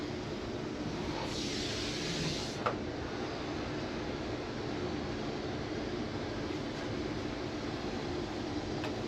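A Dupray Neat+ steam cleaner working on a living room carpet, a steady close hiss and rushing noise with a brief sharper burst and a small click, continuous throughout.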